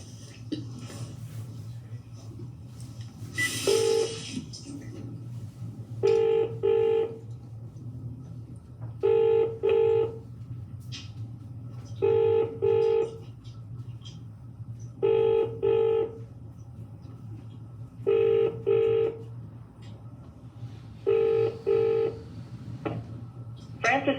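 Outgoing telephone call ringing back repeatedly, paired ring bursts at regular intervals over a low steady hum, with faint background noise.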